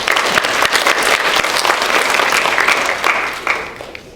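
Audience at a Chinese alumni club panel discussion applauds a panelist, a full burst of many hands clapping nearby that holds steady, then gradually thins and fades toward the end.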